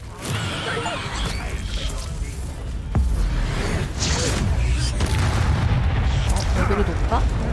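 An Incendio fire spell in Hogwarts Legacy blasts out as a string of heavy booms and crashing impacts, loud and close, with a fresh burst partway through and game effects rumbling underneath.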